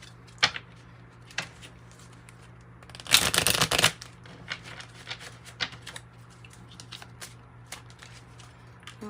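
Tarot cards being shuffled close by in a single short riffle burst of about a second, surrounded by scattered soft taps and card handling sounds in an otherwise quiet room.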